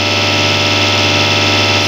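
An engine runs steadily on a flywheel test bench while a diesel injection pump on a Panther 2.5 is calibrated. The sound is a loud, close, even drone with a fast regular pulse and no voices.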